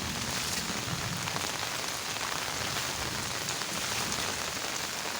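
Heavy rain pours steadily over a village, a dense continuous hiss of drops drumming on surfaces, close and loud throughout with no voices.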